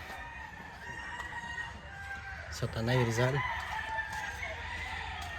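A rooster crows loudly nearby at a gamefowl farm in Tanay, Rizal, one long crow rising over the middle of the clip while someone talks and other birds call faintly in the background.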